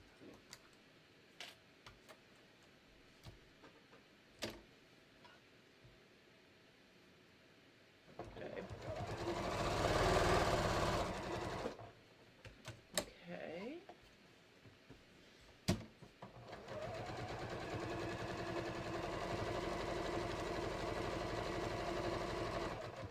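A home sewing machine back tacks a seam on a shorts waistband and fly, a steady whirring run in the middle and another near the end, with quieter handling clicks and taps between.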